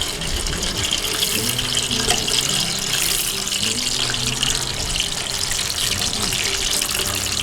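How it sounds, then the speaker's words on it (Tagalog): Hands being washed under a running kitchen tap during home cooking, a steady close hiss of flowing water splashing into a sink, continuous throughout with no talk. "Always wash your hands para malinis."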